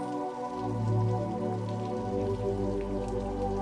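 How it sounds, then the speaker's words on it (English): Steady, soft rain falls beyond a window outside a quiet indoor nook, a faint continuous patter under low, sustained tones. "with the rain beyond the window, continuing on its own"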